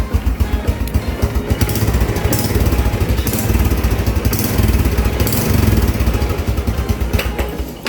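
A first-generation Honda Supra X 125 motorcycle idles steadily close by with a rapid, chugging pulse and a constant rattling buzz from vibrating body panels, no voices over it.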